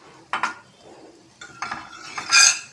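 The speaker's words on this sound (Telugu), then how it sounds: "కరివేపాకు కూడా, పోపులు అన్నవి అలా వేయించేసుకుందాం." Mustard seeds, cumin and curry leaves tempering in hot oil, heard as a few brief clinks and stirring scrapes followed by a short swelling sizzle near the end, close and fairly quiet.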